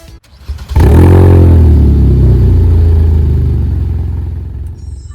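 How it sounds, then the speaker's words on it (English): A 2015 Kia Soul with about 87,600 miles cranks and catches, then settles into a smooth, steady idle, close and loud with no odd noises, slowly easing down in level. "So you just push this button here and it turns the car on."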